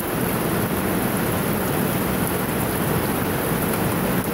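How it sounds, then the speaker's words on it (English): Heavy rain, with hail, pours down in a steady, dense roar that never lets up, loud and close with no voices. "it's still raining really hard"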